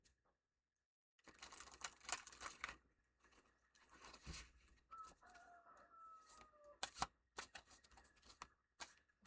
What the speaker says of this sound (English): we're going to shuffle this again